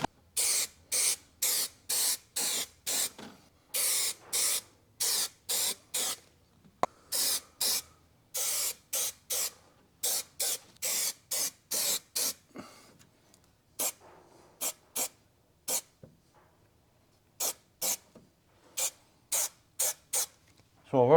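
Glue is sprayed onto leather for a 1965 Ford Mustang door card: a long series of short, sharp hissing bursts up close, some in quick clusters and others spaced out by pauses.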